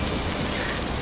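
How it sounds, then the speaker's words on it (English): Steady, dense rain falling loud and close as a constant wash of noise in an outdoor survival game setting, with no talk over it. "Ah, no, the rain!"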